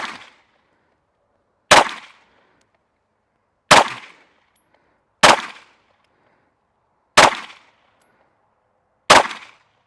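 Single pistol shots from a Glock at an outdoor range, six sharp reports spaced a second or two apart, each with a brief ringing tail, loud and close with silence between.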